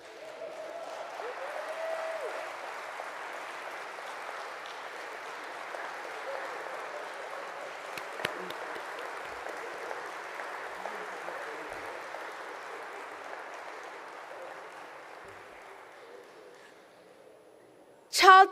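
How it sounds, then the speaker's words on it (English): Sustained audience applause at an opening session of a global conference on child labour, steady broadband clapping from a large crowd lasting throughout, with a faint voice at the start and a sharp loud burst at the very end. "that, ladies and gentlemen, deserves a standing ovation."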